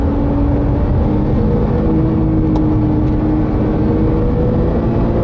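A Porsche 911 engine drones steadily while driving, a loud, constant low rumble with road and wind roar and no clear gear changes or revs.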